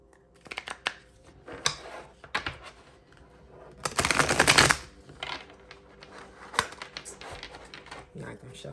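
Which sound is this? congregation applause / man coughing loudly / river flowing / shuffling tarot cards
shuffling tarot cards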